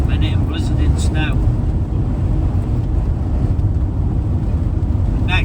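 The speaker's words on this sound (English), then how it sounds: "Must be 50-mile-an-hour wind at the minute and blizzarding snow." Strong wind of around 50 miles an hour during a snow blizzard, a loud, constant roaring buffet over the microphone from start to finish, with a few faint higher sounds briefly showing through.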